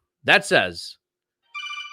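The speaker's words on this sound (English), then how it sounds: "I forgot to mute my phone" A mobile phone rings in short electronic tones right after a brief spoken phrase, sounding near and clear on a silent background.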